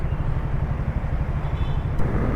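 Road traffic heard from a Keeway CR152 motorcycle ride, a continuous low rumble of engines and tires rolling close by, steady and dense without talk.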